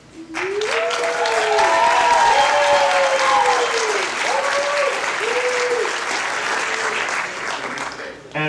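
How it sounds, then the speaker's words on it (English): Loud, sustained applause from a live showcase audience giving a standing ovation, continuous clapping with cheering voices and whoops rising over it, fading slightly toward the end. "Now everybody give a standing applause to Rob Rector."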